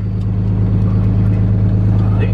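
A Freightliner M2 bucket truck with a Cummins engine runs close by, holding a loud, steady low drone without pause.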